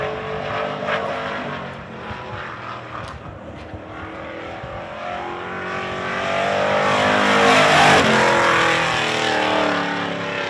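Race car, number 23, lapping an oval track during a timed qualifying run, its engine droning steadily then swelling louder as it passes close, with no talk.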